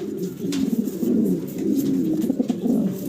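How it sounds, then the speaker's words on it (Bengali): A pair of Bronze Art Angel fancy pigeons coo close by in soft, repeated throaty rolls, steady and unhurried, with no voices over them. "ভিডিও স্ক্রিনে আমরা চমৎকার এক জোড়া কবুতর দেখাচ্ছি আপনাদের।"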